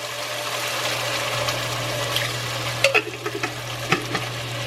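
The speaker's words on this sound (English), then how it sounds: "that is simmering nicely now" Sauce simmers in a pan with a low steady sizzle and bubbling, broken near the end by a few soft clinks and splashes from stirring, close and fairly quiet.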